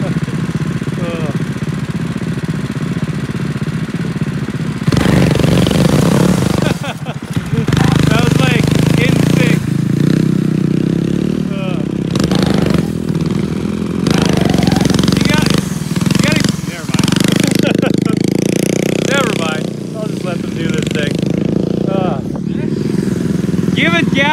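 Small shredder ride-on vehicles with wheelie bars revving hard during wheelie practice, a loud buzzing engine drone that surges and cuts repeatedly, with people talking over it.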